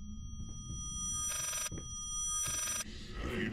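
A telephone rings in the horror video game Layers of Fear, with two separate electronic bell bursts of about half a second each, clear against a quiet, humming ambient background.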